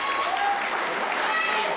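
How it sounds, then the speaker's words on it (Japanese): A crowd of citizens gives loud, steady applause at an Olympic send-off rally in Mitaka, with a voice speaking over the clapping throughout. "詰めかけた市民からエールを込めた盛大な拍手が送られました。"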